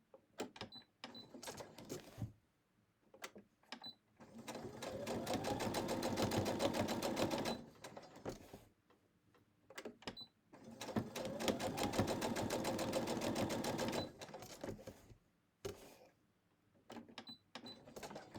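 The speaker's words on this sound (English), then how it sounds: "as I'm sewing this" A sewing machine stitches quilted sunflower coasters in two long, steady runs of even mechanical whirring, separated by short pauses filled with clicks and handling noises.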